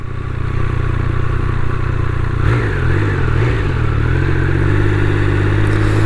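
A 2022 Triumph Speed Triple 1200RR runs on the road, its engine a loud, steady drone that rises and dips as the rider works the throttle, mixed with wind rush.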